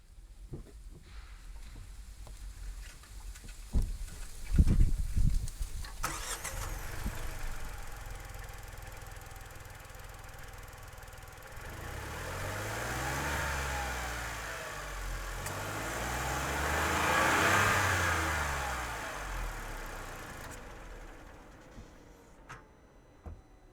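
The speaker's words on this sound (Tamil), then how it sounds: "நான் இப்போ அந்த டர்போவோட இன்ஜின் மட்டும் நான் உங்களுக்கு ஸ்டார்ட் பண்ணி காமிக்கிறேன்." A Tata Punch turbo petrol engine, 2026 model, cranks and starts after some handling clicks, then settles into a steady idle and rises through two smooth revs before easing back, heard close with no talk.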